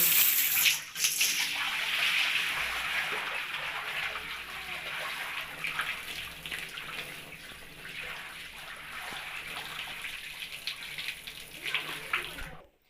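Aquarium water pours out into a bathtub in a continuous loud rush, splashing steadily and tapering slightly before stopping abruptly at the end.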